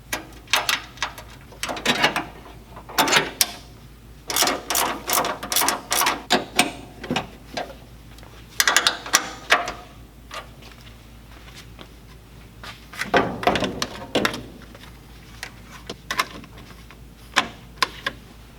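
A battery holder is threaded on by hand while fitting a dual battery into a Toyota FJ60, heard as close, irregular bursts of clicking and scraping metal with short pauses in between.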